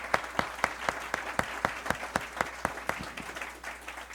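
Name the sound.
audience applause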